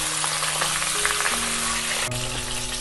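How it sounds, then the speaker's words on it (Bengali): Fish heads fry in hot oil in a pan for a Bengali fish head pulao, giving a steady, close sizzle with faint bubbling and a low background hum throughout. "মাছের মাথাগুলোকে আমি খুব ভালো করে একটু ভেজে নিচ্ছি।"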